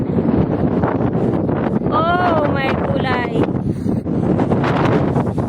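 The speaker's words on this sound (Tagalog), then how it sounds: "ang lakas ng hangin" Loud, constant wind buffeting the microphone on a hike, a heavy roar throughout, with a person speaking briefly over it.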